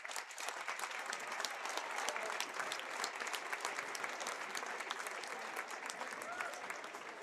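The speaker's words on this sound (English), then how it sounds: "Please stand and show your appreciation by giving a big round of applause to these outstanding officials" A basketball crowd stands and applauds the game officials at a girls varsity game, dense steady clapping filling the gym, fairly distant and even throughout.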